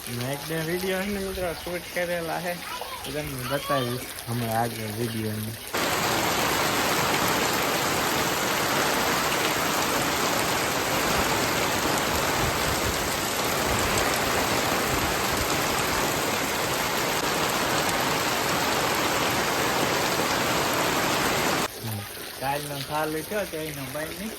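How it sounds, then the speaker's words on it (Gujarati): Steady, dense hiss of gentle rain falling continuously for a long stretch in a village in Botad, with people talking just before and after it. "મસ્ત મજાનો ધીમીદાર વરસાદ ચાલુ છે"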